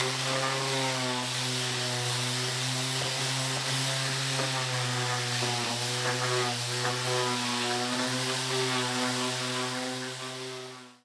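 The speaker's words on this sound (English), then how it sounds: "all I need to do now is sand it because it's fairly rough" A power sander works on a rough, routed wooden bowl tray. It gives a loud, steady motor whine with strong tonal hum, runs unbroken for several seconds and cuts off at the end. No voice.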